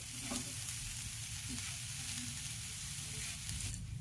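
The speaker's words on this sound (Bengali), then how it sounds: "নারকেলটাকে আমি হালকা একটু ভেজে নিচ্ছি" Fresh grated coconut frying lightly in ghee in a pan, a dense continuous sizzle with soft stirring scrapes, close and fairly loud, with no voices.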